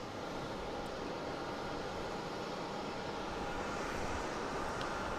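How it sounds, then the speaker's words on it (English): A Delta Airbus A220 arrives at Boston Logan International Airport, a steady broadband engine roar with wind noise, loud and continuous throughout, with no talk. "We have Delta coming in from Austin at A220"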